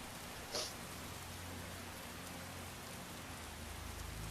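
Steady rainstorm from a Skyrim weather mod in the video game, a dense, even hiss of falling rain with a brief brighter splash near the start and no voices.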